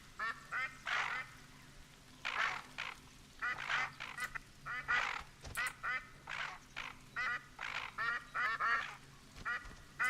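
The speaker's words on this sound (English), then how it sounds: "There are the Goldeneye ducks." Goldeneye ducks in a video game hunting-lodge area, a run of repeated nasal quacks in short bursts roughly every second, moderately close and clear over a soft ambient bed.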